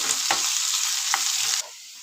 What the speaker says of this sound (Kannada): ಅದ್ರ ಜೊತೆಗೆ ನಾನು ಈರುಳ್ಳಿನ ಹಾಕ್ಕೋತಾ ಇದ್ದೀನಿ. ಎರಡನ್ನೂ ಚೆನ್ನಾಗಿ ಎಣ್ಣೆಯಲ್ಲಿ ಫ್ರೈ ಆಗಬೇಕು.